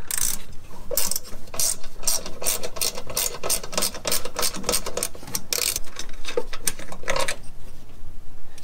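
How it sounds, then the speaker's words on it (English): Ratchet wrench removing 8 mm bolts from a transmission control module bracket on a Dodge Dakota or Durango, a close, loud, fast run of clicking ratchet strokes in quick rhythmic bursts for most of the clip, easing off at the end. "there's three 8-millimeter bolts holding the TCM to the bracket, and just remove those"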